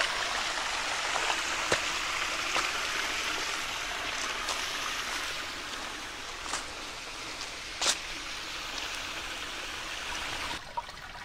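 Mine water runs steadily down Roush Creek, which is at an unusually low level. A continuous close broadband rush and trickle is broken by a few brief splashes, with no voices.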